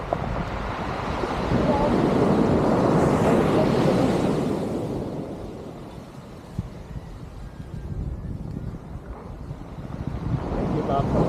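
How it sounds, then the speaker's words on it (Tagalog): Strong ocean waves at Dinadiawan Beach, a loud continuous roar of surf with heavy wind buffeting the microphone, swelling and easing before building again. "Lakas ng alon"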